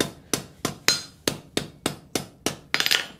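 A hammer strikes a hot scarf joint during forge welding of a collar. There are about ten sharp, ringing blows at a steady brisk rhythm, close and clear, and the last few come in a quicker flurry.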